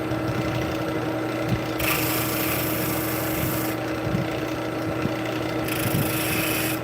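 A spindle detail gouge cuts a turning wood blank on a lathe, giving a steady close scraping rub over the constant hum of the spinning workpiece, with brighter cutting passes swelling and easing every couple of seconds.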